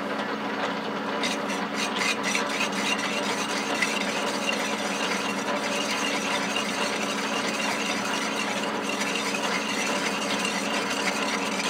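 A metal lathe takes very light cuts on a steam boiler flange for a 5-inch gauge model locomotive, giving a steady, continuous scraping and rasping tone with a faint mechanical rattle throughout.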